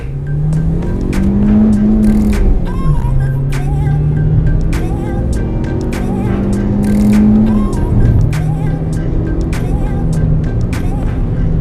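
A Proton Persona sedan accelerating on the road: a loud, continuous engine drone with rising and falling tones that climb through the gears, tyre and road noise underneath, and a person talking over it.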